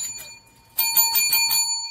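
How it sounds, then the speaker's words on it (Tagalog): A notification bell sound effect: a bright metallic bicycle-style bell rings in a quick run of strikes with a long shimmering ring, loud and clear after a brief quiet moment, with no talking. "Kakuha ako ng bagong notification bell."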